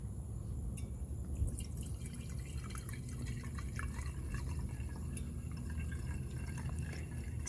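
Liquid pours by hand into a tiki lantern without a funnel, a steady trickling and dripping that runs unbroken and fairly close, with no talk over it.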